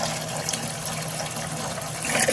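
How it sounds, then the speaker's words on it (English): Water rushes steadily into a bucket during an aquarium water change, a dense, continuous gushing that stays loud and close throughout. "And our bucket is very quickly filling up."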